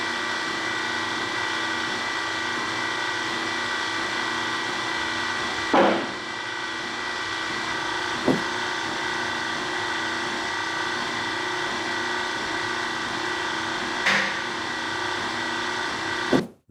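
A hydraulic rig pulls steel and aluminum gutters in a strength test, giving a steady mechanical hum throughout with a few sharp clicks and bangs, likely as the gutters strain and give way.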